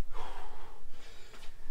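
Heavy panting breaths of a person recovering after one-foot jump exercises in a backyard workout, a few close, rough gasping inhales and exhales with no speech.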